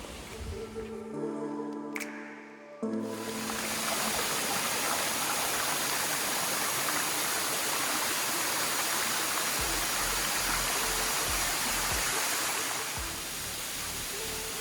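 Lulumahu Falls in Hawaii pours in a loud, continuous, broadband rush of falling water and stream flow, steady and close, preceded by a brief tonal sound at the start.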